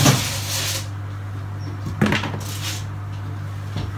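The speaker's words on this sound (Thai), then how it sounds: "อันนี้จอยก็จะเอาเข้าเตาอบ" An oven door opens with a clunk and a tray of fresh chilies is set inside, followed by a couple of knocks and metallic clatters over a steady low electrical hum.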